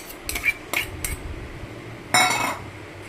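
Mango pieces tumble into a heated kadai for a jaggery mango pickle, giving a few quick metallic clinks and clatters near the start, then a louder scraping rattle of pieces hitting the pan later, close and without talk.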